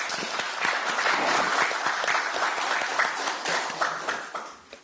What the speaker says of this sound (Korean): 우리 위원장님 힘내시라고 박수 한번 주십시오